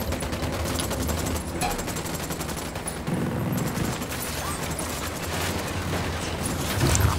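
Dense, continuous gunfire in the video game Ghost Recon Wildlands, rapid automatic bursts blending into a loud, unbroken barrage that swells near the end, with no talk over it.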